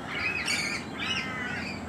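A mixed flock of wild suburban birds in Australia calls continuously, with overlapping squawks and chirps layered close by and fairly loud throughout.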